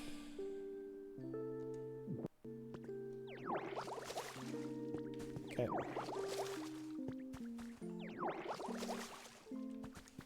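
Plants are watered in the Pokopia game, three splashy bursts of spraying water rising over a plinking background melody, and a voice speaks briefly.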